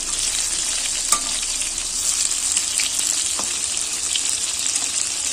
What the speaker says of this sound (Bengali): যেগুলো একটু উল্টানোর দরকার উল্টিয়ে দিচ্ছি